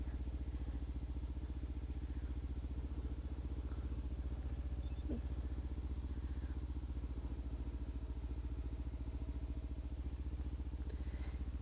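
A motorcycle rides steadily with a low, continuous engine drone and harmonic hum, fairly constant in level throughout, with a brief faint click partway through and no talking.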